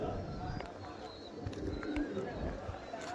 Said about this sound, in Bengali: খুব সুন্দর পায়রা, খুব সুন্দর